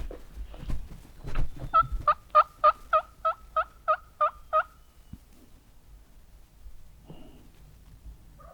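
A Merriam's wild turkey gobbles in a fast, rattling series of about nine pulses, loud and fairly close, with quieter rustling before and after.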